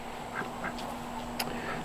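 Ducks quacking in a garden area, a few short calls spread through a steady background hum, moderately distant and not very loud, with no talking.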